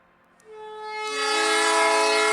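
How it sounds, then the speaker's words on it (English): Trains departing in the railway game Voxel Tycoon, a steady rising chord of engine and horn tones building after a short silence, with two faint clicks near the start. "There's a lot of trains in here, but I'm just going to send some of them off."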